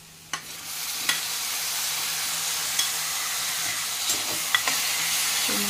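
Finely chopped tomato and onion sizzle steadily in a hot pan as dal fry is prepared, with a constant frying hiss broken by a few soft stirring clicks, close by.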